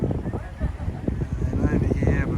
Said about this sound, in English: So, it's pretty windy.